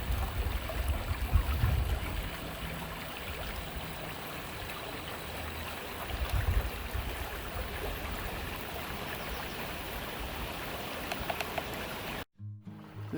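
Running water of a small stream along a desert nature trail in Sierra Vista, Arizona, a steady, soft, continuous babble with light wind rumble, alone and fairly faint, cutting off abruptly near the end.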